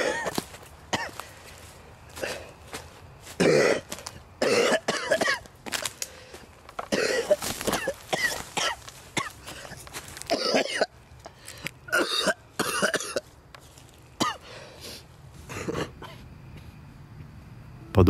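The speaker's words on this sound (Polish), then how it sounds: "dostaje kolejnego mocnego ataku kaszlu" A fit of harsh, repeated coughing from a character fleeing a building in the Marble Hornets web series, with bursts of coughs and throat clearing spread through the stretch and short pauses between them.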